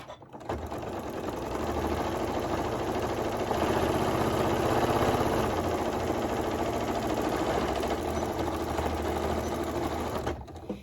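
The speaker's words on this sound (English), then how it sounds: "I'm going to put the row of stitching, and I'm just going to sew straight across" A sewing machine stitches a straight row across thick double-layered fleece for a hat and scarf, giving a steady, close, continuous mechanical whir that runs for about ten seconds and then stops.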